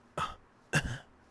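A man imitates the short cough-like grunt heard in anime, two sharp throaty bursts about half a second apart, close and clear, with the start of a third at the end.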